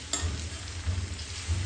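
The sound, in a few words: tempering sizzle of okra curry frying on gas stove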